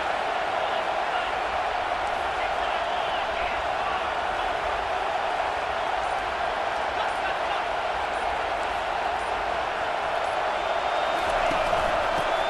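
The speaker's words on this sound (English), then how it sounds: "This crowd knows when to bring it." A stadium crowd roars in a college football video game, USC against Wisconsin, as a steady, dense wall of cheering that holds at full volume throughout.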